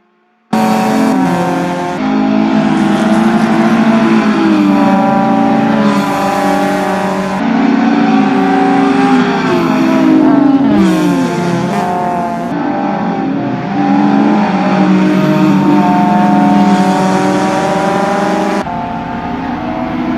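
BMW 325 race car lapping a circuit in a Group N revival race, its engine loud and continuous with rising and falling revs through gear changes, close by and alone for about twenty seconds.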